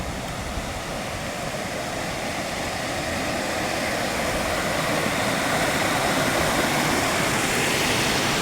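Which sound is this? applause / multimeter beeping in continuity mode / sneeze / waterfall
waterfall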